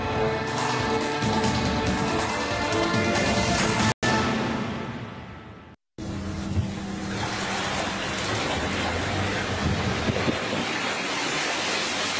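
Strong storm wind roars and buffets the microphone in a dense rushing noise, broken by two abrupt cuts, with no voices.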